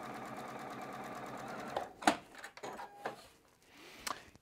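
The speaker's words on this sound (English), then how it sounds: "Sewing right on the folded or drawn line." A sewing machine runs steadily, stitching fabric along a folded or drawn line while making a V seam, its motor whirring loud and continuous before stopping around two seconds in, followed by a few clicks and handling noises.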